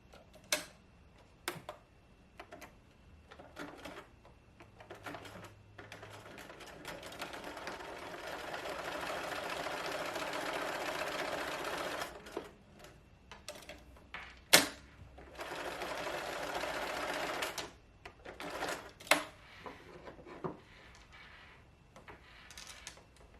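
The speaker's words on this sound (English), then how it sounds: "then we'll sew all the way down to the corner" A sewing machine stitches a small fabric phone pillow, running in a few bursts of rapid whirring stitches separated by quiet gaps with clicks and handling noises, close and fairly soft.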